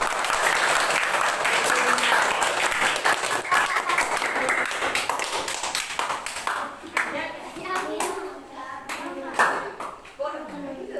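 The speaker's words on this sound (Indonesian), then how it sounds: "Yuk, tepuk tangan." Classroom audience, including children, clapping in a burst of steady applause that thins out into scattered claps, with voices chattering as it fades.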